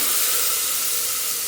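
Onion and tomato frying in a pan, a steady bright sizzle and hiss held evenly for a brief moment, close and unbroken, with no talking.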